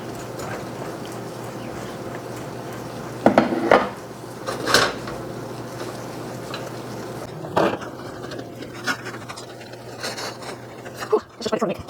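Sugar and honey mixture being stirred in a pot on the heat while making torrone nougat, with scattered clinks and scrapes of a utensil against the pot, a few louder knocks, and a steady low background hum.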